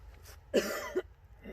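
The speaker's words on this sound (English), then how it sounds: "And she's gonna stop coughing." A single short, harsh cough-like burst from a woman with allergies, followed by a smaller second catch, close to the mic in a quiet room.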